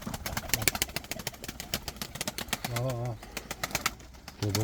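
Pigeons coo in low, throaty warbles amid a busy clatter of flapping and rustling, with people talking faintly in the background.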